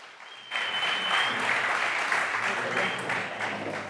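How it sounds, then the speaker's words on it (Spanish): Warm audience applause welcoming guests onto a stage at a talk about haute cuisine, a dense, sustained round of clapping that swells in abruptly and holds steady throughout. "Ese aplauso, por favor, recibidlos con un cálido aplauso."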